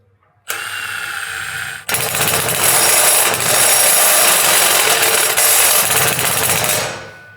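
A Milwaukee M18 ONEID2 cordless impact driver fitted with a step drill bores through thin-walled metal, a loud, continuous high-pitched grinding and whine that starts briefly, pauses, then runs steadily for several seconds before tapering off, with no talking.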